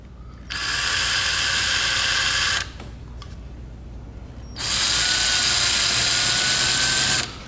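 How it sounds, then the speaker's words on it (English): A power drill runs in two long, loud bursts driving a screw into a kayak deck for bungee rigging, with a pause between filled by faint clicking and handling. "I'm using a drill."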